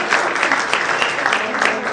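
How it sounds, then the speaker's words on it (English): Applause from the audience at a communicator awards ceremony, a full, sustained roar of clapping hands with slight swells, fairly loud and with faint voices mixed in. "Let's have a huge round of applause"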